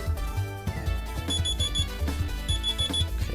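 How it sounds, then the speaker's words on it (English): An alarm goes off in the game NeoLemmix, a repeating electronic beeping pattern over chiptune-style background music, bright and distinct, with no speech. "Yeah, the alarm's going to go off just now."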